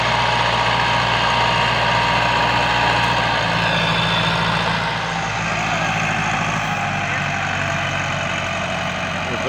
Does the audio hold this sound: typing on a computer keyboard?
no